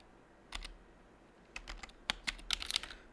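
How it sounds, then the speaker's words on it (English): Quiet, close computer keyboard typing in scattered bursts, sparse single keystrokes at first and then a quicker run of clicks near the end. "while I'm typing this out"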